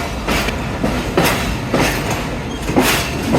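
A passenger express train pulls out of a junction station after a two-minute stop, its wheels giving a steady rumble with regular clickety-clack beats across rail joints; no one speaks.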